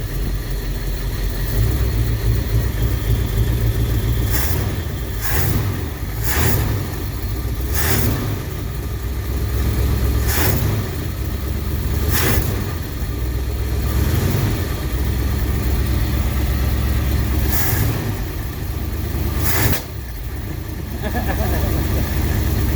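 A 1959 Ford Galaxie Fairlane 500 engine idles loudly and steadily close by, running for the first time in 14 years, with a rough low rumble and periodic sharp clicks and ticks; a voice speaks over it.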